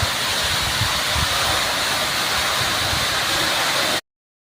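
Water gushing from a pump motor outlet on a farm, a loud, dense, continuous rushing hiss that holds steady for about four seconds and then cuts off abruptly.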